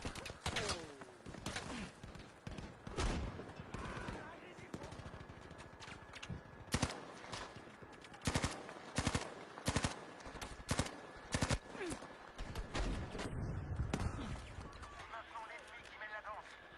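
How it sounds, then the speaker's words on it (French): Rapid bursts of gunfire from a Battlefield V match crackle throughout, with machine-gun volleys and single shots at varying distances while a player talks excitedly over the action. "on me tire dessus"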